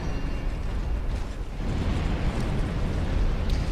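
A fire trap in Dark Souls 2 roars with a continuous, loud rushing burst of flame that holds steady and grows slightly stronger toward the end, with no voices.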